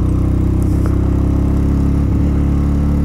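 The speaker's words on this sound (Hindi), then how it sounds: "बाइक झटके दे रही है" A motorcycle engine runs steadily near Pangong Lake in Ladakh, a loud low rumble at close range with slight uneven dips as the bike jerks and sputters.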